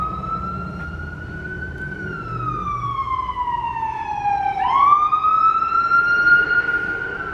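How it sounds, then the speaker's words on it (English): An ambulance siren wails past outdoors, one loud sweeping tone that drops in pitch as it passes and then steadies, over traffic rumble, with no talk. "Ambulance"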